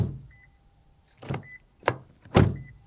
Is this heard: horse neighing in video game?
no